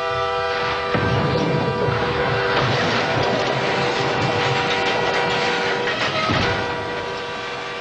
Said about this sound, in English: Bells ring, warning of an oncoming locomotive.